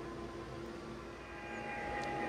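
A steady, faint mechanical whir with a soft tonal hum runs continuously from a nearby Mila air purifier.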